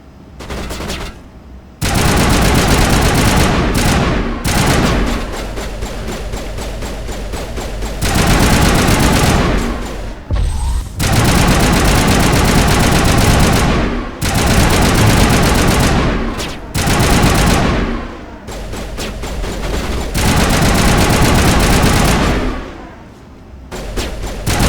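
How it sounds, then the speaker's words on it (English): Rifle fire in Mass Effect Legendary Edition: loud, sustained automatic bursts crackle in long rapid volleys separated by brief pauses, close and dominant. "Damn, this rifle hits hard."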